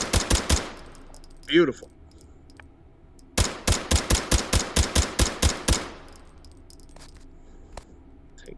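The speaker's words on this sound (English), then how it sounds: "And so that is your Uzi Pro." A suppressed Uzi Pro fires in the virtual reality game H3VR. A short burst comes first, then a quick string of about a dozen sharp, evenly spaced shots at close range. A brief spoken remark falls between them.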